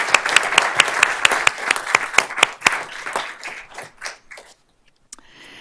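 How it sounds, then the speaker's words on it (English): An audience at a Board of Trustees meeting claps in a dense burst that thins into scattered claps and fades out after about four seconds, followed by a brief quiet rustle. "let's give them a round of applause even though they're not here."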